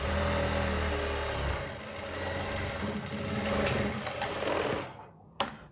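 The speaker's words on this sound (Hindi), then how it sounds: "यहाँ पे हमने इसके फ्रंट घेरे को फोल्ड करके सिलाई लगा ली" A sewing machine stitches the folded front hem of a kurti, running in a steady, close, continuous whir that slows and stops near the end, followed by a single sharp click.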